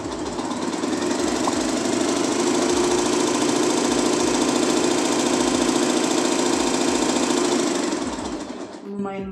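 A Janome RE1312P portable sewing machine whirs loudly and continuously, its rapid needle clatter holding steady and rising slightly in pace before winding down at the end.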